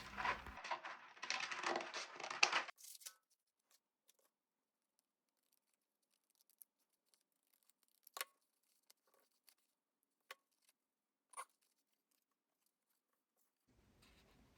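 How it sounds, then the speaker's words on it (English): Scissors cutting a piece of red crepe paper for a paper rose: a few seconds of dense crisp snipping and rustling close up, then quiet with scattered sharp ticks and taps. "cut a piece of red crepe paper"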